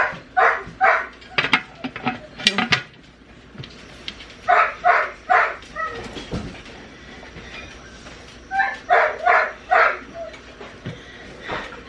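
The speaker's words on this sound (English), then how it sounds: "Ignore the dog barking in the background." A dog barks repeatedly in the background of a kitchen during turkey cooking, loud clusters of rapid barks in several bursts with short pauses between them.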